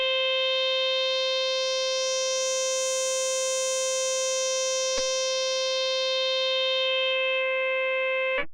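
Steady synth sine tone played through a Boss RC-505 loop station with delay, its brightness swelling and thinning as the frequency control is swept, holding one note throughout with a brief click near the middle before cutting off.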